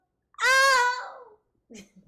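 A person's voice imitates a cat meowing in pain: one loud, drawn-out wailing note that trails off, followed by a brief, fainter vocal sound.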